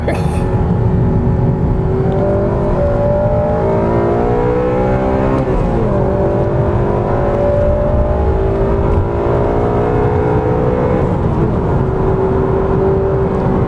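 A 2008 Honda Civic Si engine revs hard through the gears with VTEC engaged, loud and close from inside the car, its rising whine climbing, dipping briefly at each shift, then climbing again without pause.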